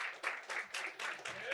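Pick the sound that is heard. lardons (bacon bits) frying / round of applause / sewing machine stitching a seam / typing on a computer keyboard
round of applause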